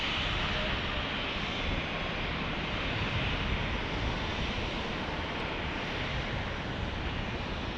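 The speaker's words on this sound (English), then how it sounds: "As we see that Cessna 208 Caravan landing." A Cessna 208 Caravan lands at San Diego airport, with a continuous broad roar of engine and rushing air that holds steady and fairly loud throughout and no distinct voices.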